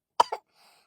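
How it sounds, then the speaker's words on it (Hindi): A woman gives a short hoarse cough with two close bursts, loud and near, followed by a faint breathy trail, with no talk around it. "बहनी हमरे खांसी पकड़े"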